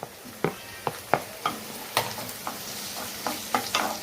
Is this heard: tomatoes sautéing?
yes